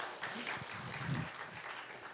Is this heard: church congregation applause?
yes